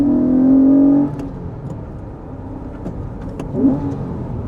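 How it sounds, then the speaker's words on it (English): A stock Honda sports car engine roars at high revs, then drops sharply and idles with a lower rumble before a brief quick blip of the throttle. "That engine revs so incredibly quickly."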